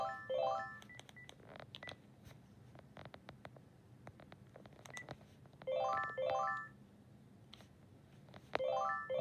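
Extension dialed on a Panasonic cordless phone handset: short bursts of rapid electronic beep tones in quick succession, separated by quiet gaps with faint button clicks, close and clear.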